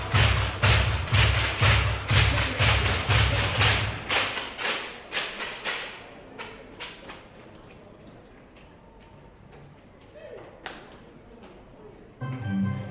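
Baseball pitches thudding into a catcher's mitt during a Bite versus Blue Sox game, a run of sharp, evenly spaced hollow thumps for the first several seconds, then sparser, fainter knocks over quiet crowd ambience.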